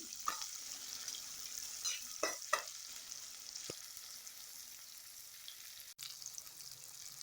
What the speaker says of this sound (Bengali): পেঁয়াজগুলো যখন ব্রাউন হয়ে যাবে তখন পর্যন্ত এগুলোকে আমি ভাজবো